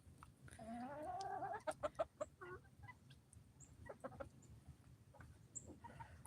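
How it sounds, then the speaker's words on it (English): Backyard chickens cluck and squawk while pecking at a Thanksgiving turkey carcass, a run of close, busy clucks with a louder burst in the middle, over a low rumbling background. "these are our chickens eating"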